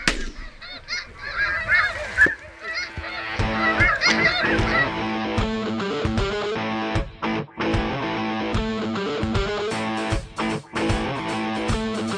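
A large flock of snow geese honks loudly and continuously during a hunt, a dense overlapping chorus of nasal calls close by with no talking.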